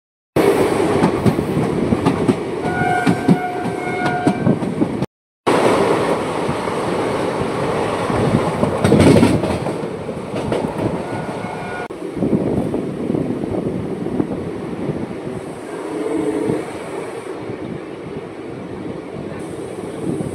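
A slow local passenger train on the Chowrigacha–Azimganj line runs on its rails, giving a steady loud rumble and rhythmic wheel clatter from inside the carriage, with wind buffeting and a brief dropout early on.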